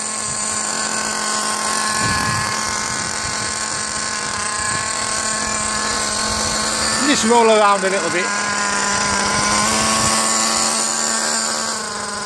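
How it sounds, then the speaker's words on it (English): A Kyosho FW-06 nitro RC car engine whines at a high, steady pitch in icy cold weather and revs up sharply partway through. Someone talks briefly over it. "give the engine a chance to warm up a bit"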